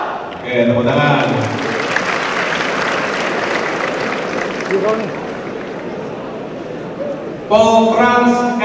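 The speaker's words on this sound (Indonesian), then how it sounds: "Oke, tepuk tangan." A hall audience applauds a named transport college with dense, sustained clapping for roughly seven seconds, framed by an announcer's amplified voice at the start and end.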